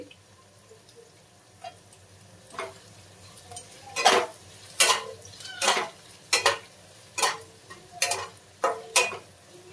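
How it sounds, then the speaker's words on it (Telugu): A spoon scrapes and knocks against a pan in a run of sharp, irregular clinks while brinjal fry is mixed with turmeric; the strokes grow louder and more frequent midway, with a low background hum and no talking. "ఇదంతా మిక్స్ చేసుకోవాలి మంచిగా"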